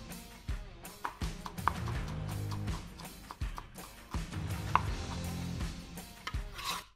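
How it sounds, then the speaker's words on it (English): A knife chops scallion greens on a cutting board, with a run of brisk, close board taps coming in uneven bursts and short pauses between them. "Then I'm gonna chop the greens up."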